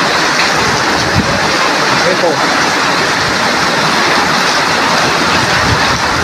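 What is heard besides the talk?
heavy downpour of rain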